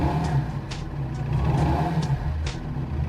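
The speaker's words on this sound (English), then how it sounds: "Try to hear the difference between accelerating when the engine is hot and when it's" Cold motorcycle engine revs up and down with a rough mid-pitched drone, steady and fairly close, with no voices.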